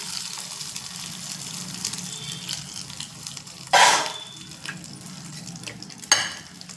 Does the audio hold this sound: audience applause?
no